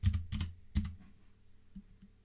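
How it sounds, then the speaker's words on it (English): A few quick keystrokes tap on a computer keyboard, then two fainter taps follow after a short pause. The sound is close and quiet, with no voices. "Now we need to type out clean"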